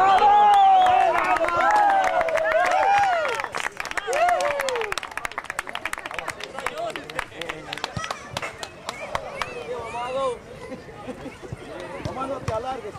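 A crowd at a local football league final claps and cheers for a player, dense applause with scattered sharp claps and voices over it, gradually thinning and growing quieter toward the end.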